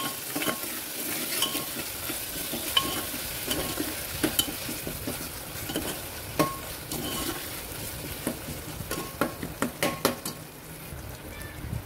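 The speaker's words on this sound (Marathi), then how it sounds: "आता मी याच्यामध्ये ही आलं लसूण पेस्ट ॲड करते। चांगलं ढवळून घेऊया।" Ginger-garlic paste stirred into softened tomatoes in a pan, with a spoon scraping and clinking against the metal in an uneven rhythm over a steady low sizzle of frying, close and moderately loud.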